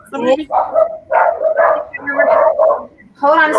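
A pet dog barks and yips close and loud in several rapid bursts, interrupting a person who is talking indoors.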